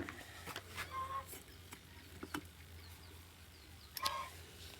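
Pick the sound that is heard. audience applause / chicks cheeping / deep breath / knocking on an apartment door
chicks cheeping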